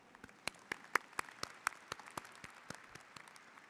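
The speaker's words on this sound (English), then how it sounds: "you can applaud yourself" Graduates at a graduation ceremony applaud in scattered, sparse claps that stay fairly quiet and sound spread out across the room.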